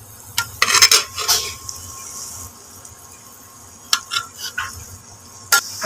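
Plantain pieces sauté with crushed ginger and garlic in a pan: a soft sizzle runs underneath while a spoon stirs and scrapes metal in short clusters, first around one second and again near four seconds, and the stirring sounds close by.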